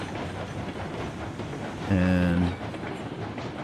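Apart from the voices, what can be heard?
train running in video game Railroads Online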